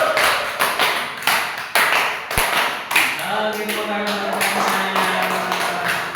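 A group claps a counted rhythmic pattern, sharp bursts of claps in short clustered sets with brief gaps between them. A voice speaks over the later claps.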